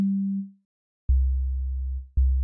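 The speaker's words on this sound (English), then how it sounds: "It's just a sine wave." A plain sine-wave tone from an 808-style bass synth in Ableton: a short mid-low hum fades out, then after a pause two deep sustained bass notes sound in succession, clean and alone.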